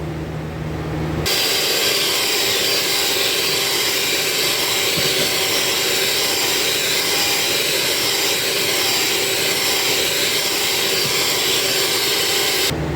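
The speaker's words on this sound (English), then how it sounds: "we're going to go ahead and continue whisking this for another 10 minutes" Homemade marshmallow mixture being beaten with an electric whisk, a steady loud motor whir running continuously and close up with no talking.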